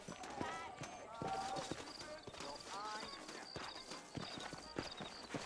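Horse hooves clip-clop at a steady walking rhythm in the Red Dead Redemption video game, moderately close, while people talk over the hoofbeats.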